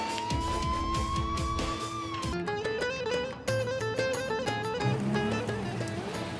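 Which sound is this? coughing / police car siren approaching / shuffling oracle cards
police car siren approaching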